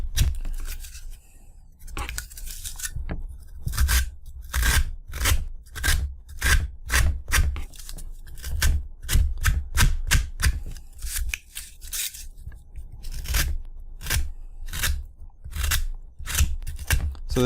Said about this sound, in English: I'm going to take our hobby knife and just whittle it out.